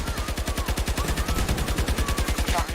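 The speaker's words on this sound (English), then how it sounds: "Nothing like an LMG mag dump to wake you up in the day." Sustained light machine gun magazine dump in Battlefield 2042, a long unbroken string of rapid, evenly spaced loud shots running from start to finish.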